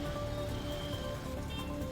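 Heavy monsoon downpour over flooded streets and residential areas, a dense, steady hiss of rain drumming on surfaces with no pauses, moderately loud and unbroken throughout.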